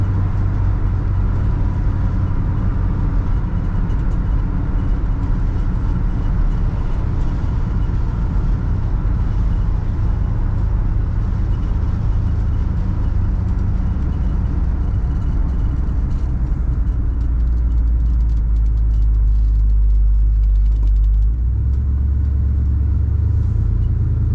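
A 1967 Ford Galaxie 500 Convertible engine at quarter throttle while driving, a steady, loud, deep rumble that holds evenly and then settles lower near the end.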